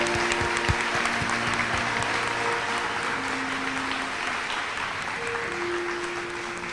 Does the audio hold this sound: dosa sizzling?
no